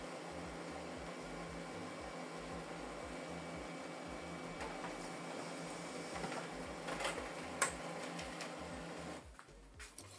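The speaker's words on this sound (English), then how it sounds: "We're going to print a test page." A steady mechanical whir of a Brother MFC-L2800DW laser printer printing a test page, with faint clicks and a few sharper ticks near the end as the page feeds out.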